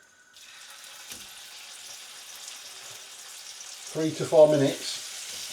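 Seasoned steak frying in butter and olive oil gives a steady, moderate sizzle that builds slightly, with a person speaking briefly near the end.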